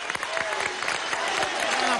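Crowd applause at a political event in Guayana, Venezuela, a burst of clapping heard over a room's murmur, brief and moderately loud.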